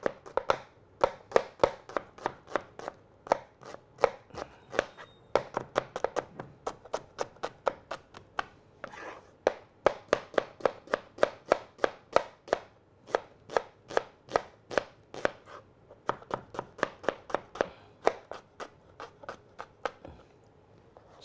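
A medium onion is chopped roughly with a knife on a board, giving a long run of steady, rapid, close-up knife strikes with a few brief pauses and no talking.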